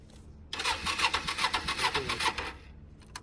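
A motorbike engine cranks and catches, then runs in a loud, rhythmic chugging burst for about two seconds before cutting off, with no voices over it.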